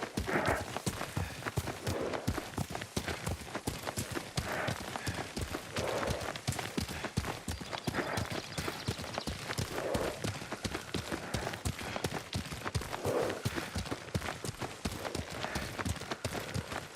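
A horse's hooves clip-clop at a steady fast rhythm while being ridden through the samurai video game Ghost of Tsushima, continuous and fairly close under bursts of in-game dialogue.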